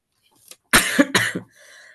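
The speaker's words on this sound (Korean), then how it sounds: "약을 먹어도 기침을 계속하고" A couple of harsh, close coughs in quick succession follow a brief faint sound, then a quiet breathy tail.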